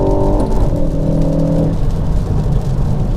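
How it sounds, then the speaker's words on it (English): Tuned 330bhp Mk4 Ford Focus ST flat shifting from third into fourth gear, a loud close engine roar with a brief tonal rev that drops as the gear changes, then continuous rumbling drive noise. "did you know you can flat shift in the Focus ST?"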